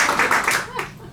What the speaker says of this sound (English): You guys clapped like you forgot.